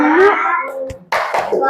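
Children in a classroom chant the tepuk fokus clapping routine in unison, their voices rising together before a few quick, close hand claps break in near the end.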